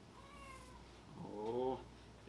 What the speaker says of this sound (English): Oh, the cat's come to visit.